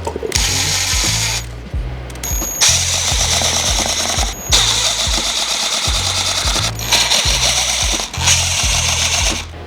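A power drill drives screws into pieces of green elm wood, loud bursts of whirring with ratcheting clutch clicks, in several runs separated by short pauses.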